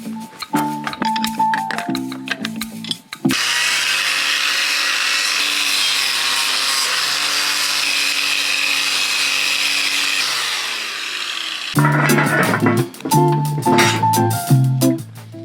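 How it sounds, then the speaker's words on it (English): A power tool fitted with a CSD disk strips old paint and rust from metal parts of an Iveco 4x4 overlander, a loud steady abrasive whir lasting several seconds, bracketed by clattering handling and knocks. "So I removed all of the old paint and rust with the CSD-disk."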